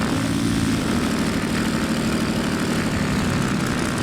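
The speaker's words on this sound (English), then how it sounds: "Just listen to that engine." Propeller aircraft engine idling steadily after start-up in the X-Plane 11 flight simulator, a loud continuous drone with a low throbbing hum, heard alone without talk.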